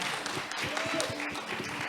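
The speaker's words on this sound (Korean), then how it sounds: "박수 부탁드립니다." An audience at a symposium claps in brief, even applause, moderately near and steady for a couple of seconds.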